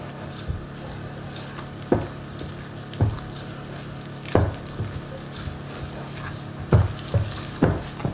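Plum cake muffin batter thickened with cornstarch is stirred in a bowl, giving soft, wet squishes and periodic clacks of the utensil against the bowl roughly once a second, fairly close.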